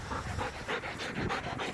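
A dog pants steadily at close range during a training session, quick rhythmic breaths repeating evenly with no voices.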